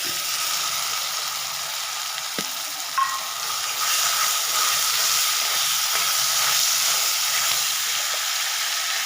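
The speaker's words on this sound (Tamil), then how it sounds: "உப்பு போட்டு வணக்கும்போது நல்லா சீக்கிரம் வணங்கிடும்" Onions frying with salt in an oil-filled pan for a chicken gravy, a steady broad sizzle held close and continuous, with a brief clink or scrape partway through and no voices.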